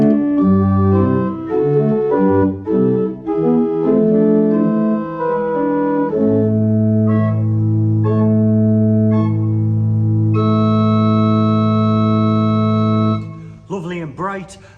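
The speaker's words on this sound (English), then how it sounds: "the first stop on the grate is an 8-foot open diapason, which sounds like this" A pipe organ's 8-foot open diapason stop plays a slow sequence of sustained, full tones and chords, ending on a long held chord that cuts off.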